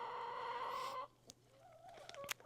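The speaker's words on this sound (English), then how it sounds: "Hi, chickens." Backyard chickens cluck and call near a garden path, with a loud squawking burst at first, then softer scattered clucks and a sharp call near the end.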